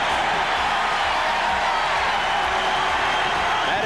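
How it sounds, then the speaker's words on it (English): A football stadium crowd roars steadily from the end zone at a 1990 Louisville Cardinals game against Western Kentucky, a dense, continuous wash of distant cheering with no clear breaks. "The roar of the crowd out of the crunch zone."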